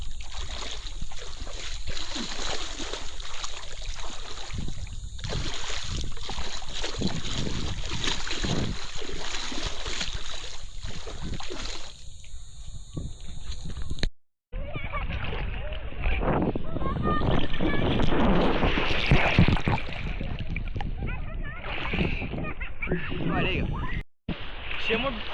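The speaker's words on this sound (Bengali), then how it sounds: "এখানে প্রচুর ঢেউ।" Waves wash and roar continuously with gusty wind buffeting the microphone, and a voice talks over the surf.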